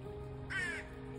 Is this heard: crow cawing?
yes